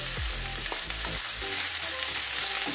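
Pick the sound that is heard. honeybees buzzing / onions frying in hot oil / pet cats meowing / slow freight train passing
onions frying in hot oil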